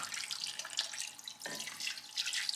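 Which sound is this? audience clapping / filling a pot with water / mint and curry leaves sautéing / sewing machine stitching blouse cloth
filling a pot with water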